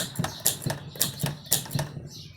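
A 1919 Corona 3 portable three-bank typewriter being typed on, about five sharp mechanical key strikes in an even rhythm, close and clear with no talk.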